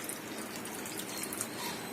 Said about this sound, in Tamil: புளியை வந்து புளி தண்ணியை நான் ஊத்துறேன் இதில்